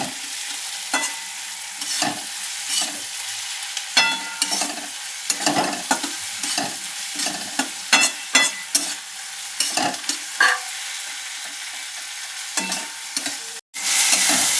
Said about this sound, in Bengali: দেখো পেঁয়াজটা টমেটোটা রসুন বাটার সাথে ভাজা ভাজা হয়ে গেছে